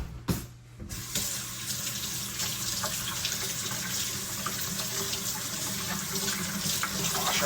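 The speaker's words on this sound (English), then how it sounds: "Wash our hands." Hands are washed under a running kitchen tap, a steady close rush of water splashing into a sink that starts after a brief pause and continues unbroken to the end.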